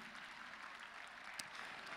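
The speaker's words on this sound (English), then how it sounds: "a round of applause" Warm applause from a dinner and auction gala audience in Portland, a steady wash of distant clapping lasting briefly with one sharper clap standing out.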